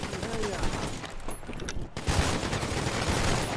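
Gunfire in the video game GTA V during a roleplay session, a dense burst of rapid shots filling the clip with a brief lull just before the two-second mark, loud and close with no one talking over it.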